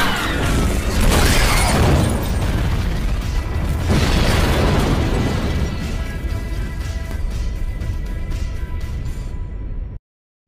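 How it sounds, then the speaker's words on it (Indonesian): A car explodes in a film scene: a loud, sustained roaring blast with crackling debris, dense and close, fading into rumbling for about ten seconds before cutting off. "dalam waktu singkat mobil itu pun meledak"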